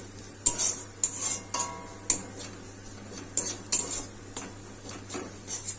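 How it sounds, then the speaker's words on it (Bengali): Fried pointed gourd and potato pieces added to a pan of spiced fish roe, heard as a series of sharp metallic clinks and scrapes of a spoon against the pan, irregularly spaced over a quiet hum, with no talking. "এবার আমি পটল আলুটা ভেজে রেখেছিলাম যেটা, ওটা দিয়ে দেবো"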